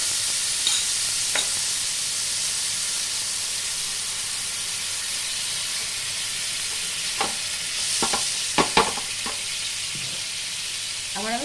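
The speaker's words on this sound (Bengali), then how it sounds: "ভেজে নেব।" Kulcha flatbread frying in a pan in a home kitchen: a steady, even sizzle and hiss fills the whole stretch, with a few brief clinks and scrapes near the end and no talk.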